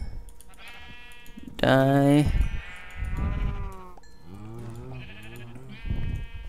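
Sheep bleating around a pen in Minecraft, several loud wavering bleats with someone talking over and between them.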